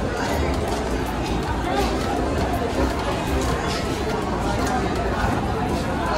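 Packed Gorakhpur railway station crowd, a loud unbroken babble of many nearby voices and shuffling movement, steady throughout.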